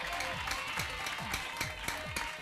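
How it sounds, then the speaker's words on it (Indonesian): A television studio audience applauds, the clapping fairly faint and blended with loud music that has a steady rhythmic beat. "Bagaimana tepuk tangan untuk Luna dan Tombi?"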